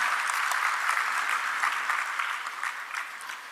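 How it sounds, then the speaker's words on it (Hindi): Audience applause at an award ceremony, a dense, steady patter of many hands clapping close by that eases slightly toward the end. "तालियों से स्वागत करें"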